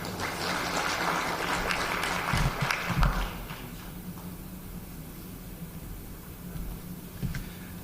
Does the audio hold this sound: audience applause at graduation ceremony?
yes